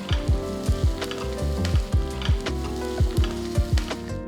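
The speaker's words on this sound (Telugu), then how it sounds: "ఉల్లిపాయల్ని రెండు నిమిషాలు మగ్గేంత వరకు కలుపుతూ ఉండాలి" Onions and green chilies fry with a pinch of asafoetida in a pan for sambar rice, a steady near sizzle broken by regular knocks of a stirring spoon roughly every half second.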